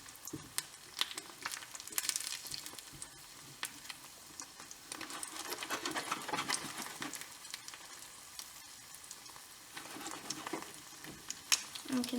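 An egg frying in oil in a pan: a steady, close crackling sizzle dotted with small irregular pops and spatters, continuing throughout at moderate volume.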